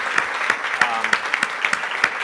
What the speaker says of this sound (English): please give Doug a round of applause